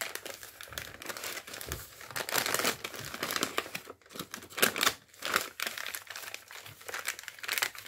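Paper being folded and pressed for an origami dragon, close crinkling and crumpling with crisp creasing bursts and brief pauses, no talk.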